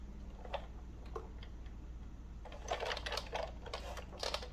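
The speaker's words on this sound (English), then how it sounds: "just turn it over and go ahead and run it through your machine" Die cutting machine running paper through, a faint mechanical ticking with sparse clicks at first, then a quicker cluster of rattling clicks, close and quiet over a low hum.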